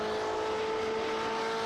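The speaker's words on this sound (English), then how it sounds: "see if we can hear the exhaust just burbling out of the back of this M8" The engine of a BMW M8 GTE race car in a racing video game at Spa-Francorchamps plays from the chase camera. The exhaust gives a steady, tonal drone that runs evenly through the whole short stretch.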